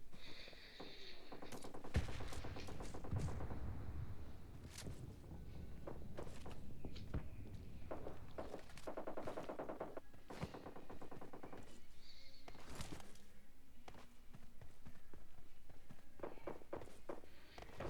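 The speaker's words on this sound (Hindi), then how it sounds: "मैं जैसे ही बग्गी में बैठा तो कुछ फायरिंग हुई" Close-up gunfire rattles in a shooting video game as bursts of automatic fire and single shots. Footsteps and movement sounds run in between, and the overall level stays fairly quiet.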